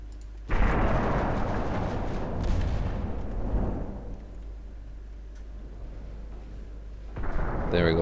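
Naval guns firing armor-piercing shells in the warship game Ultimate Admiral Dreadnoughts, a heavy booming salvo that rolls out and fades, then another loud blast near the end over a constant low rumble.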